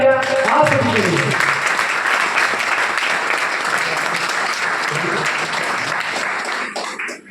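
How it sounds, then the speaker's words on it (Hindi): Loud, sustained applause from an audience at a wellness business success event, steady dense clapping for several seconds with faint voices underneath, tapering off at the end. "तो एक बार जोरदार तालियां आप सभी के लिए।"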